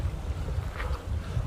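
Steady wind buffets the microphone outdoors at a wadi along the Sharjah–Kalba Road, a continuous low rumble with gusty swells and no voices.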